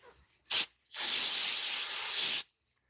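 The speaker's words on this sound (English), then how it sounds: "I'm going to spray it onto the paper towel so I don't overspray anything onto my interior" Aerosol cleaner sprays onto a paper towel in a garage while working on a 1996-2005 GM 4.3L Chevy Astro intake manifold: a short hissing burst, a brief pause, then a longer steady spray up close, with no talking.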